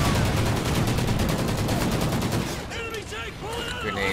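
Machine-gun fire in the Call of Duty: Ghosts campaign: a fast, steady stream of loud automatic shots for a couple of seconds, then fading into a quieter battle with a voice speaking over it.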